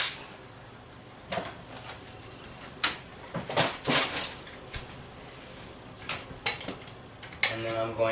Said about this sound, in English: I've just got some regular elbow macaroni here. I'm just going to go ahead and dump this in.